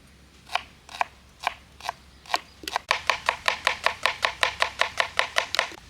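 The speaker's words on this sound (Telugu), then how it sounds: "ప్రాన్స్ కర్రీ కోసం వెజిటేబుల్స్ కట్ చేసుకుందాం రండి" Vegetables being cut for an outdoor-cooked prawn curry, heard as a steady run of crisp, close chopping strikes, slow and spaced at first, then quickening into a fast even rhythm, with no talking.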